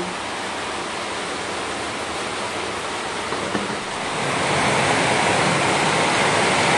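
Running water gushes steadily and close by, a continuous broad rush that grows a little louder toward the end, with no voices.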